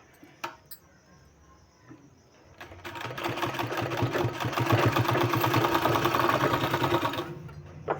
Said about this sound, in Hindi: इस तरह से फोल्ड करके इसमें हमको सिलाई लगा लेना है।